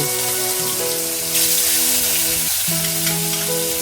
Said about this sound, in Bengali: দেখুন কি সুন্দর সিজনিং সাউন্ড হচ্ছে মাছ ভাজার সময়